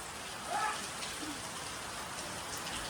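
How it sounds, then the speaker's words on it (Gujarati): Heavy rain pours steadily outdoors, a constant near wash of drops across the whole stretch with no pause, and a brief faint sound rises partway through. "હજુ પણ વરસાદ ચાલુ છે."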